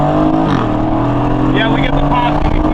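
An Aston Martin Vantage engine drones loudly and steadily, pitch dipping and shifting, with crackling exhaust pops breaking through partway along.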